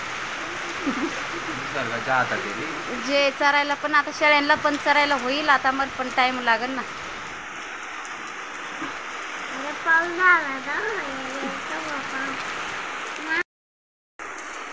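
A steady rain shower with wind hisses over a farm where goats are kept, a continuous even wash of sound under close conversational voices for most of the stretch.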